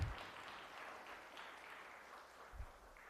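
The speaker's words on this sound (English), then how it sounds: "One more round of applause for Molly" Audience applause at a Sunday service stage fills the space as a faint, even wash of clapping from a distance, with a brief nearby thump near the end and no voices.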